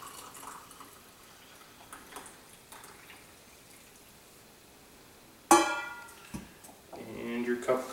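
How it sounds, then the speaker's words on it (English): Boiling water poured into a half-filled AeroPress coffee cup, a sudden splashing gush that rises in pitch as the cup fills, following a quiet stretch of faint room noise. "You're just gonna fill it the rest of the way with the boiling water."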